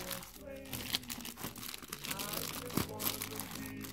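Crinkling and crunching of a small plastic stationery packet being handled up close, with music playing underneath.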